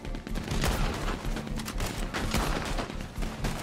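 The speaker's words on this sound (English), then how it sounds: "Gatling gun." A Gatling gun in Red Dead Redemption 2 fires a dense, continuous stream of rapid shots, loud and close, with no pause in the chattering volley.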